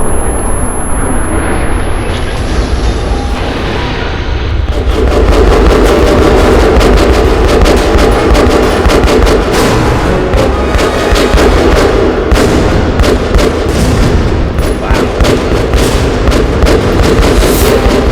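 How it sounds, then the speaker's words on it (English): Loud explosions and rumbling blasts from a video game fill the whole stretch, with a dense, continuous roar of booms and crackling debris. "Explosion."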